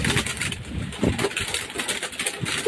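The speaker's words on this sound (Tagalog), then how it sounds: "Papalabasin niya na. Yun. Labas na. Dami mga kalapatids." Pigeons being released from a loft and flying out, a dense wash of fluttering wings with scattered coos over a steady background engine hum.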